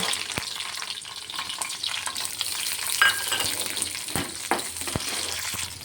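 Garlic and green chillies fry in hot oil in a kadai, with a steady crackling sizzle and a few sharp clicks from stirring.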